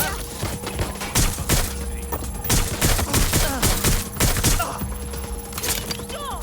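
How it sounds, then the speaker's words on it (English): Heavy gunfire in the video game Watch Dogs Legion, loud close bursts and volleys of shots cracking in uneven clusters over a constant background hum. "Being shot at here!"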